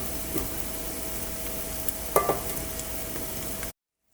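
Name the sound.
butter and whole spices sizzling while frying in a pan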